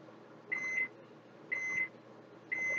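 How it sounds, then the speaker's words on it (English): A microwave oven beeps three times at steady one-second intervals, each tone short, clear and moderately loud over a quiet room hum, with no talking. "Oh, there goes my microwave."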